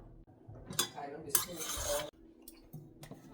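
A spoon scrapes and clinks against a cooking pot while food is stirred, with short metallic taps and a longer rattling stretch in the middle, close by under a quiet background.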